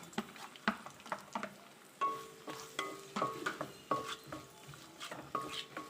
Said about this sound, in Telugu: ఇవి వేడైపోయినాయి ఉల్లిపాయలు వేసేస్తున్నానండి